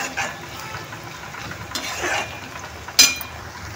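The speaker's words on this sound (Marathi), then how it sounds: "इथे कांदा तळून घेत आहोत आपण" Onion frying in oil with whole spices in a pan for aloo dum biryani gives a steady low hiss and sizzle, stirred softly, with one sharp utensil clink near the end.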